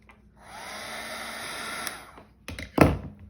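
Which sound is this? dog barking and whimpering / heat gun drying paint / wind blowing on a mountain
heat gun drying paint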